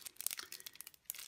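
Short ripping and crinkling of an Adrenalyn XL foil card packet being torn open with teeth, a quick series of close, quiet tearing snaps with brief pauses.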